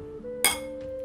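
Beer glasses clink once in a toast, a single bright near clink that rings briefly over a faint steady hum.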